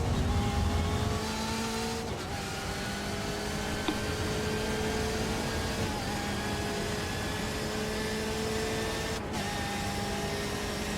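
Sports car engines roar at high revs in an iRacing IMSA Sportscar Championship race at Road America, a steady droning whine with rising gear tones and a couple of shift breaks, heard alone without commentary.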